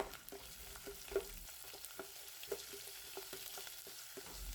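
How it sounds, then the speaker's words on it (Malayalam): Chopped garlic and ginger fry in a pan for a moru curry while being stirred, a quiet steady sizzle broken by soft scraping clicks of the spoon. "ആറോ ഏഴോ വെളുത്തുള്ളി ചെറുതായി കട്ട് ചെയ്തതും ചെറിയ കഷ്ണം ഇഞ്ചി ചെറുതായി കട്ട് ചെയ്തതും ചേർത്ത് 15 സെക്കൻഡ് നേരം നന്നായിട്ട് ഇളക്കുക"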